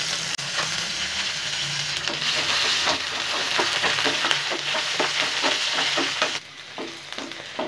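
Ivy gourd pieces frying and being sautéed in oil for a spicy tamarind curry, giving a steady loud sizzle with repeated scraping stir strokes, easing slightly near the end.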